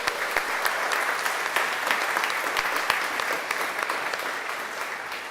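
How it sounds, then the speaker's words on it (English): A tech expo audience gives a steady round of applause at a business awards presentation, many hands clapping evenly for several seconds in a large room, fading slightly toward the end. "So I think the team deserve a hearty round of applause."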